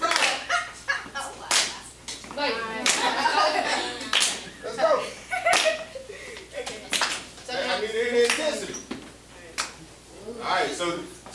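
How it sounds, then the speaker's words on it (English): A creative writing class at Sallie B Howard claps along in sharp, irregular bursts of handclaps and slaps, loud and close, with chuckles and chatter mixed in. "Everybody start clapping"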